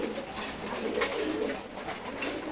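A pair of unusually coloured pigeons makes a brief run of low, burbling coos near the middle, moderately close, over a continuous background hiss.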